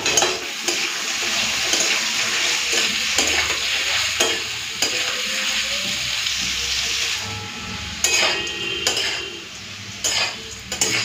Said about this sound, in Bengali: তেলটা গরম হয়ে গেছে, দিয়ে দিচ্ছি আলু।